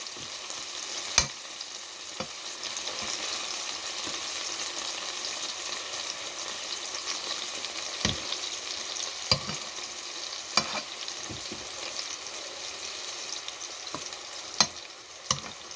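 Sausage frying in an electric skillet, a steady broad sizzle with occasional sharp pops and clicks of stirring across the whole stretch, close and moderately loud, with no talking.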